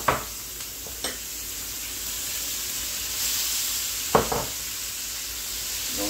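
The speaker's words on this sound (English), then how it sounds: "right now, we're gonna drop some onions." Onions hitting a hot pan seasoned with oregano and garlic for chicken cacciatore, giving a steady hiss of frying punctuated by a few sharp clatters of utensil contact.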